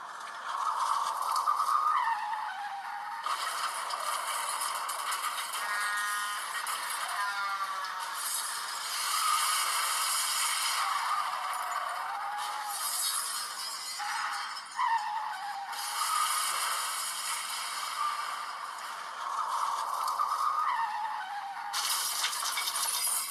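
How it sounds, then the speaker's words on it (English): Staged car-accident sounds tied to drunk driving: repeated tyre skids and screeches with scraping, rattling debris and breaking impacts, loud and close in several bursts, no talk. "This is an audio clip of some of the sounds that could be heard in a car accident caused by drunk driving."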